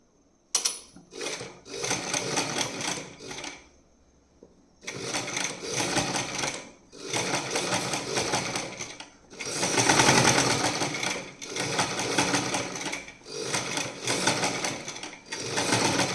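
A sewing machine stitches a keyhole neckline in several close bursts of rapid mechanical whirring, separated by short pauses.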